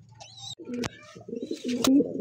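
A red checker racer pigeon at a pigeon market coos close by in low, throaty, rolling calls. Faint background voices can be heard around it.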